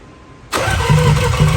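A Nissan 300ZX with no compression cranks during a compression test: after half a second of near quiet, a loud, steady churning starts abruptly and carries faint rhythmic pulses to the end.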